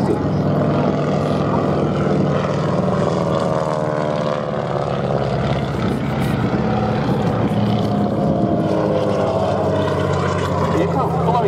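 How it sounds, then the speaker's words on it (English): A de Havilland Canada Beaver propeller aeroplane drones loudly and steadily overhead at an airshow, its engine tone rising and wavering slightly as it flies close by. "the Havilland Canada Beaver is a very versatile rugged aeroplane"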